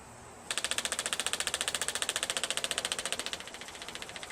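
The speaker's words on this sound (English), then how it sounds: "If all goes well, the pump will run and then quit" An electric fuel pump on a Land Rover, feeding the carburetor, runs with a fast, steady ticking pulse that starts abruptly, holds loud and regular, then drops to a softer, quicker ticking near the end, with no talk.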